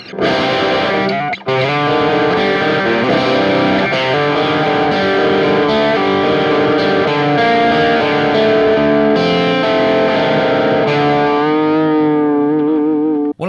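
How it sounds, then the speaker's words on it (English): Electric guitar recorded through a UAD Apollo Twin Duo audio interface, a heavily distorted tone with chorus and echo effects, loud and sustained chords ringing out continuously without talking. "Now let's hear what it sounds like on a guitar."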